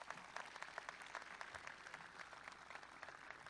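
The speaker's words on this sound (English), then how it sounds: "Let's please have one more round of applause" A crowd applauds at a 2017 high school commencement for the graduating class, a dense, steady patter of many hands that sounds fairly distant and even, with no voices over it.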